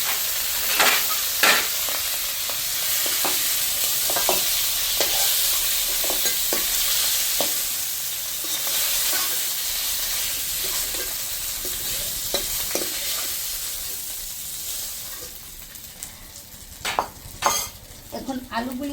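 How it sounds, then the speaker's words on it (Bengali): River aire fish fry in hot oil in a pan, a dense continuous sizzle and hiss with a spatula stirring and clinking against the pan now and then. "মাছগুলি ভাজা হয়ে গেছে, কারণ আইর মাছ একটু কম ভাজতে হয়"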